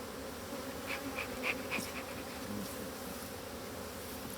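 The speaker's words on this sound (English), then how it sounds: "squish bee that's trying to sting me" Bees buzz steadily while a hive is opened outdoors, a close, continuous drone with a few brief higher whines as individual insects fly near.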